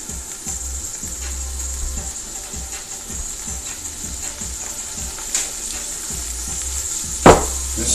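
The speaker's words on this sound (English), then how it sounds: "This is going to sizzle, so headphones, if you're wearing headphones, this might be a little loud." Beef frying in olive oil in a pan gives a steady, close sizzle throughout, with a brief louder crackle or clatter near the end.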